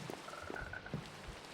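A frog croaks in a short series of low, rhythmic croaks, soft and somewhat distant against a quiet background, with no voices present.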